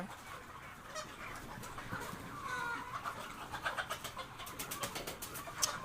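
Soft clucking and cooing from several chickens at a distance on a poultry farm, steady and low over faint outdoor background noise, with scattered short calls.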